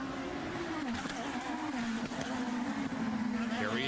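An IndyCar race car drives around a road course, its high engine drone holding steady and shifting slightly in pitch as it passes through the turns, heard under a commentator's voice throughout.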